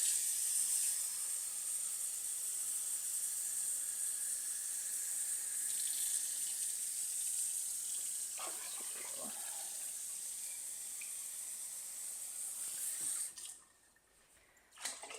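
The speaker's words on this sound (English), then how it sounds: "We'll get 3 cups of water." Tap water runs steadily into a container for pickling brine in a home kitchen, a quiet continuous hiss that stops abruptly near the end, with a few faint clinks partway through.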